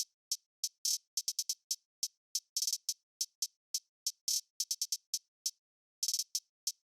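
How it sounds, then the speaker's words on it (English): Crisp programmed hi-hats in a UK drill beat tick out alone in a syncopated pattern, with quick stuttering rolls and glitchy bursts between single hits, bright and close with silence in the gaps. "I just added a little bit of hi-hat rolls and stuff like that, some glitches here and there"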